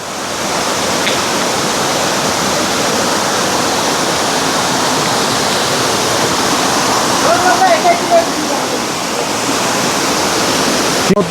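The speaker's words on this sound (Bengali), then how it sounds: "পানি বের হয়েছে মানে ঝিরি বের হয়েছে" A mountain stream gushes near a waterfall on a rocky, narrow trail, a loud, steady rush of water filling the whole scene without pause.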